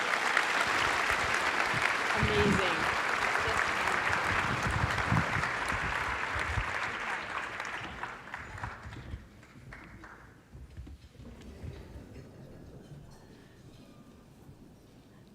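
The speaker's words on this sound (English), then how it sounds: "Let's give them a big round of applause." Audience at an employment champions breakfast applauds a panel. The clapping is loud and full at first and fades away over the back half. Scattered voices and a brief spoken remark come in as it dies down.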